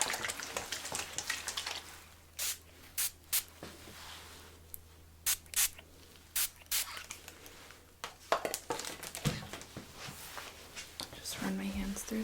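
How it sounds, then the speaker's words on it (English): A spray bottle squirts water onto hair during a salon haircut in a series of short sharp hissing bursts, some in quick pairs, between stretches of soft whispering. "Gonna add a little bit of water because it's starting to dry."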